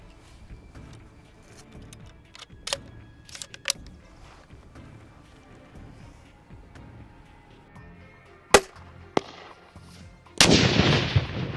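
An M203 grenade launcher fires outdoors on a range, giving several sharp, separate reports spread across the stretch, then a sudden loud, rushing burst near the end.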